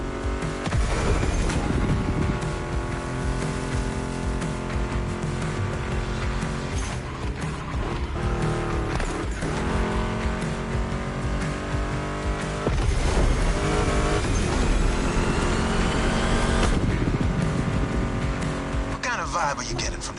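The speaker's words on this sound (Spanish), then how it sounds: "Meshes well with the sound of the engines" A Mustang GT muscle car engine roars in The Crew Motorfest, revving and shifting continuously with tire squeal, under music and a voice talking.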